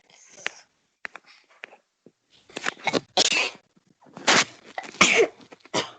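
Indoors during an informal English lesson, a person lets out a sneeze amid a scattering of short, sharp breathy bursts like coughs and snorts, close by and irregular, with no clear speech.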